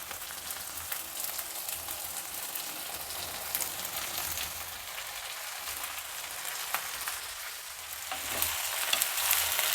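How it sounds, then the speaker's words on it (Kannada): Squeezed brinjal pieces fry in oil in a pan for vangi bath, a constant crackling sizzle with scattered stirring scrapes and pops, growing slightly louder near the end, with no one talking. "ತರಕಾರಿ ಅಂದರೆ ಬದನೆಕಾಯಿ ಎಲ್ಲ ಎಣ್ಣೆನಲ್ಲೇ ಫ್ರೈ ಆಗಬೇಕು"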